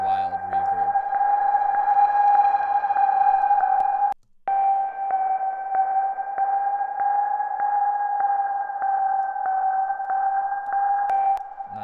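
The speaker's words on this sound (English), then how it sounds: "It's just a wild reverb." Dubstep synth audio fed through a Lexicon atmosphere reverb, a sustained washy tone hovering steadily for about eleven seconds with one short dropout midway, no voices.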